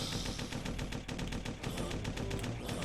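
Rapid gunfire from the video game Corpse Killer, a dense, continuous stream of quick repeated shots at steady volume with no talking.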